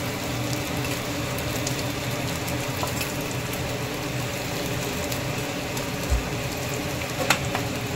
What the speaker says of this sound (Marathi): साबुदाणा घालायचा। साबुदाणा घालत आहे।